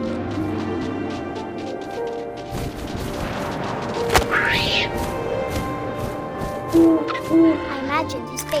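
Owl hooting in What Remains of Edith Finch, a couple of short soft hoots heard late amid whooshing wind, a sharp thwack and other game effects, with a narrating voice over parts.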